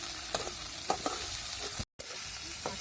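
Ground masala sautéing in oil for a pumpkin vegetable dish, with a close, steady sizzle, a few spoon taps and scrapes, and a brief cut to silence midway.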